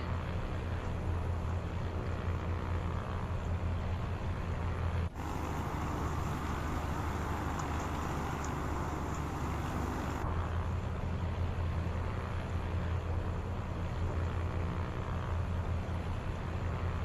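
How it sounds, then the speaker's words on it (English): Heavy rain in Microsoft Flight Simulator 2024 on a flight from Cottonwood to Sedona, Arizona: a steady, dense hiss that runs without a break over a low engine drone, with no talk. "Man, that rain's really coming down."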